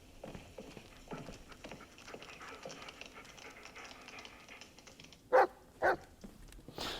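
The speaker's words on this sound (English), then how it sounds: "So Bullet is actually the dog" Bullet the dog in the Blair Witch video game gives two sharp, loud barks close together near the end, following quieter footsteps and soft rustling.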